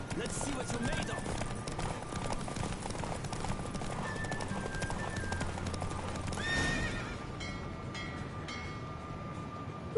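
A horse gallops in a race in The Witcher 3 video game: steady, rapid hoofbeats drum close by for the whole stretch, mixed with snorts and whinnies and a busy game soundscape, with voices speaking over it.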